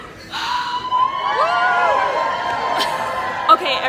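A conference audience cheers and whoops as it does a wave, with a continuous crowd roar and rising and falling shouts and whistles from many people, fairly close and steady for several seconds.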